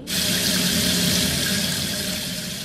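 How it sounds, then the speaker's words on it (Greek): Water gushes from an opened tap, starting abruptly and then pouring as a loud, steady, close-up hiss that eases slightly toward the end, with no voices. "αν δίψωσε κι άνοιγε να πιει νερό στη βρύση"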